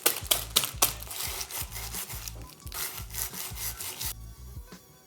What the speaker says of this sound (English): I have some cricks in a pack here. Just gonna mash them up.